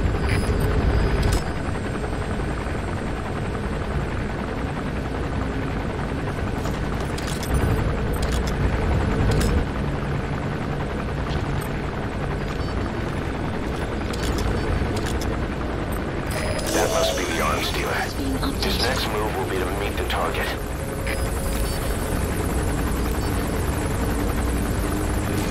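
Helicopter landing in the video game Metal Gear Solid V, a continuous rotor thrum and engine roar with bursts of louder noise later on, heard alongside game sounds.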